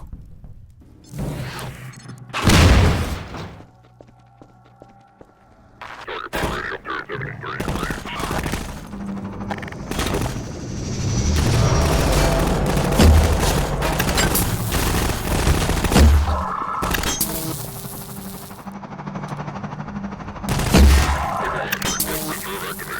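Gunfire from the Half-Life 2 Episode 1 video game, with bursts of loud shots and rattling automatic fire plus crashes and booms spread across the clip, and some voice under the action.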